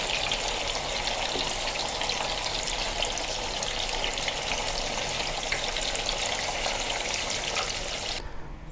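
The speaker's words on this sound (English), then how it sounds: "The first method is to deep fry the tofu over high heat" Tofu deep fries in hot oil over high heat, a dense continuous crackling sizzle that stays loud and even until it cuts off at the very end.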